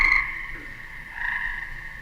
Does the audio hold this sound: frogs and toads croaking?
yes